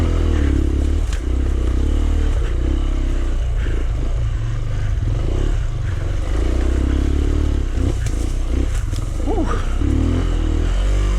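A Rieju Marathon Pro 125 enduro motorcycle ridden up an active, tight stream bed. The engine drones loud and close throughout, with surges as it revs and clattering scrapes over rocks, and a single exhaled exclamation from the rider.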